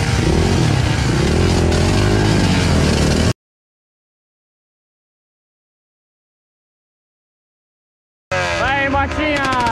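A small motorcycle riding a trail in Barros Cassal, Rio Grande do Sul, Brazil: a loud, close engine drone lasts about three seconds, then cuts to silence before a voice speaks at the end.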